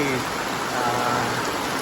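Steady rain pouring down on an outdoor steel welding work site, a dense, even hiss of drops on surfaces that runs unbroken throughout, with no clear voices.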